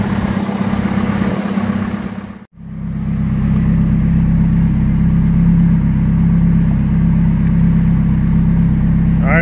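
A B16-swapped 1989 Honda Civic runs on a dyno, its engine holding a loud steady drone, cutting out abruptly for a split second, then surging back and sustaining high revs.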